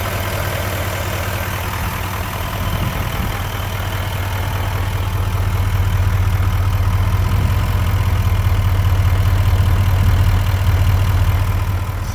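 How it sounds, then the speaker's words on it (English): A Chevrolet 3500HD truck engine idles in the engine bay, heard up close as a steady, smooth low rumble that holds level throughout with no other sounds. "There it is running under the engine bay."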